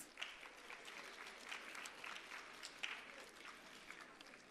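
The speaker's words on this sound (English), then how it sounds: "Another round of applause to Dr. Subhashri Narayanan" Quiet, distant-sounding applause from the audience at a Bharathanatyam arangetram dance recital, an even patter of many hands clapping steadily for several seconds with a few sharper claps standing out and no talking over it.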